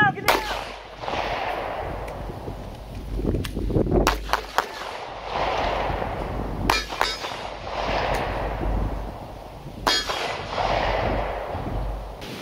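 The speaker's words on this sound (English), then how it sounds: "That's an AK-47 gunman shooting across the parking lot at your church." AK-47 gunfire in a church parking lot during a pistol-class training scenario: several sharp, loud shots spaced apart, ringing out over a noisy outdoor background with commotion and voices.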